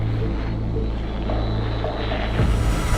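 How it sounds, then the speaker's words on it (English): A buzzing FPV drone engine passes overhead from right to left across the front of a tank, amid loud constant mechanical rumble, its pitch shifting as it moves by. "A vampire drone can be seen and heard flying from right to left across the front of the tank."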